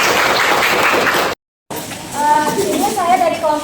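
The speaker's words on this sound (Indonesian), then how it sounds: "Baik, tepuk tangan." Classroom applause during a lesson on education management, a short burst of dense clapping that cuts off abruptly, followed after a brief silence by voices talking.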